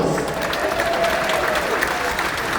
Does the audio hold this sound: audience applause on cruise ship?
yes